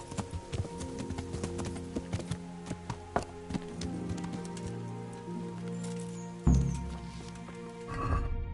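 Horse hooves in Kingdom Come: Deliverance clip-clop in an uneven, fairly close rhythm over soft rain-like ambience, thinning out before a low thump and a brief swell near the end.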